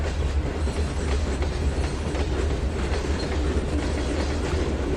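A train in the video game Trainz 2019 rumbles steadily along the rails, a heavy low roar with faint clacking throughout, loud and continuous, with no voices.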